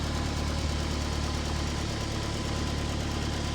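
A forged RS car engine idles steadily during a shakedown run, with a continuous, even mechanical drone and some noise from around the gearbox, close and unbroken, with no voices.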